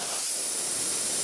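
An empty aerosol can is being depressurised, releasing a loud, steady, broadband hiss that runs unbroken for the whole moment, close and alone without any voices.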